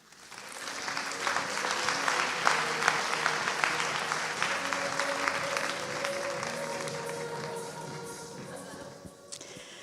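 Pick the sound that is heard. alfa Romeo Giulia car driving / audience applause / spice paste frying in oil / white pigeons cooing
audience applause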